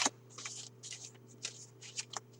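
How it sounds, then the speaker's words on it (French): A deck of playing cards shuffled by hand in the French style, with several quick riffling bursts of soft papery flutter, close and quiet, no talk. "Et vous brassez les cartes comme ça."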